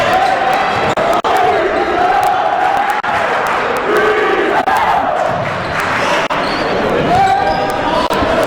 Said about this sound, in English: And the crowd chanting for junior Brees Hill to enter the game.